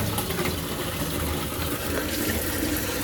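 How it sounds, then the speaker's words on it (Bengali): Tap water gushes steadily into a drum being filled with drinking water on a cold winter morning, a constant close rushing splash with no voices. "খাওয়া জলের ড্রামটা ভরে এসে"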